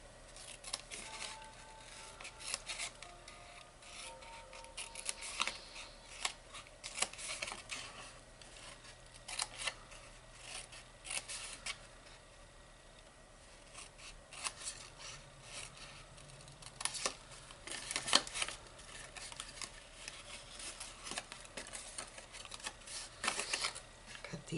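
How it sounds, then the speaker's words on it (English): Scissors cut down the tabs of a paper craft box, giving repeated short snips and rasping rubs of paper at close range, with brief pauses and faint handling noise between the cuts. "take these 2 tabs right here, and we're going to cut them down"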